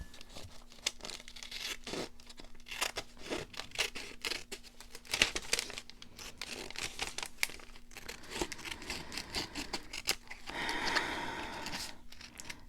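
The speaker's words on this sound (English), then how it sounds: "So I'm going to go ahead and cut around that for now." Scissors snipping around junk mail paper, a quick run of close, light cuts with paper crinkling between them, quiet and steady.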